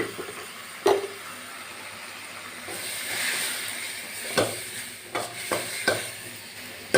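Small onions, tomatoes, dried red chilies and garlic sizzle steadily in a pan while a spoon stirs and scrapes, giving several sharp knocks against the pan over a constant frying hiss.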